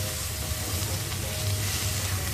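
Turmeric and chilli powder roast in hot oil for a Maithili vegetable curry, giving a steady, close, even sizzle that runs unbroken throughout.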